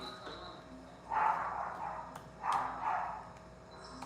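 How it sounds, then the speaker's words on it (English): A pet dog named Coco barks indoors, giving two bursts of a few muffled, mid-distance barks with quiet gaps between them. "Sorry, my dog is barking"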